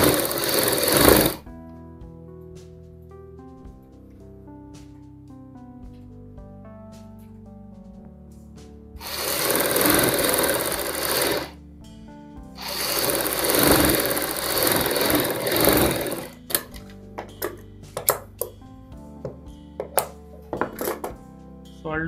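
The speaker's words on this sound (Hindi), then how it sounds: "शोल्डर के ऊपर सिलाई लगानी है।" A sewing machine runs in bursts while stitching the shoulder seam of a kurti, loud whirring runs broken by pauses. Light clicks and handling noises follow, and a voice talks quietly in the gaps.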